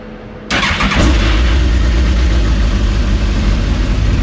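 A Smart car engine in a project car cranks and catches, then settles into a steady, loud idle close by with no talking.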